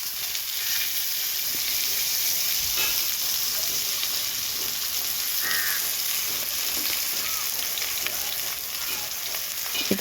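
Hot cooking oil sizzles loudly and steadily in a pan while country chicken gravy is made, a continuous bright frying hiss with faint crow caws in the distance and no talking.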